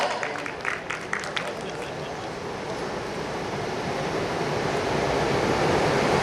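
Dense crowd applause at a public gathering, a steady broadband wash of many hands with a few sharper individual claps early on, swelling slightly louder toward the end and continuing throughout without a clear break.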